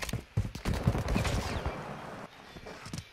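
Close, loud bursts of rapid gunfire in Call of Duty Modern Warfare 2, with several sharp shots clustered in the first half and fading into quieter scattered reports.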